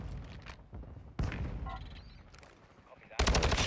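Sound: gunfire from Pogba's guns in the video game Modern Warfare 2

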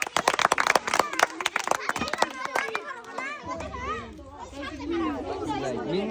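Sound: children clapping

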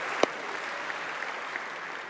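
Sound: audience applause

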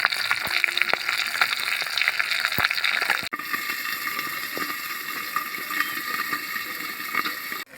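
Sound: curry with poppy seed paste simmering and bubbling in the pan

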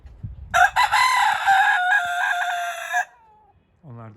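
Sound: rooster crowing and chickens clucking

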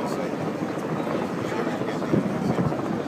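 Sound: Airbus A380 flying over Farnborough airshow

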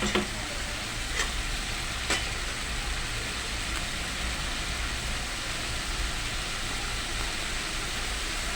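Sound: sautéing spices (kashano) in a pan, sizzling

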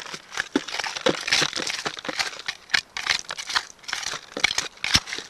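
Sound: scooping river bank dirt into a bucket

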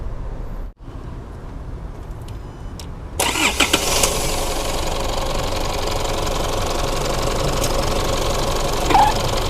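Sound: SUV engine starting and idling

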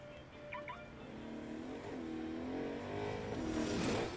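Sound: car driving in video game Agents of Mayhem

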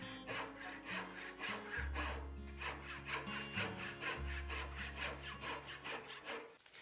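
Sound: Rob Cosman dovetail saw cutting wood

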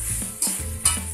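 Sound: cooked rice poured into pan with roasted sesame, stirred

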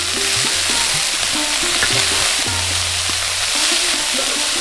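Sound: shredded cabbage and potatoes sizzling, being stirred in a pan

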